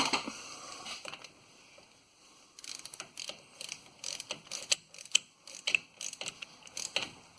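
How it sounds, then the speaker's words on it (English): A hand ratchet tightens a 1/2 inch pipe plug into the rear differential of a 2008 Ford F-150 with an 8.8 axle, making quick bursts of crisp metallic clicks between short pauses, close and fairly quiet. "We'll use the ratchet."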